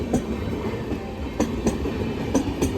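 A train pulls into a railway station platform, with a steady rumble and periodic rhythmic wheel clacks over the rail joints, moderately near, with no talk.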